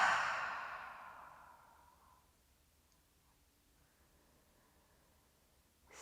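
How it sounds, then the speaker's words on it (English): A single big breath during yoga relaxation: a loud, close, breathy exhale at the start fades out over about two seconds, leaving near silence. "Taking a nice big inhale and exhale."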